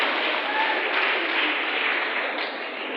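Students clap together at a school assembly, a dense, steady burst of applause for about three seconds that eases slightly near the end.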